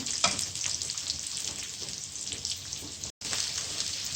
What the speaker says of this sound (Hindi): दो दरमियाने प्याज, इनको फ्राई करते हैं